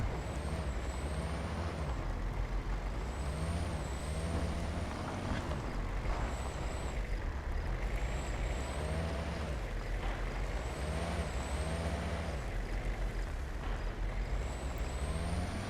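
A Jeep drives at night in the hunting game Way of the Hunter, its engine a steady low drone with recurring rising whines and a high hissing tone, even and continuous without any talk.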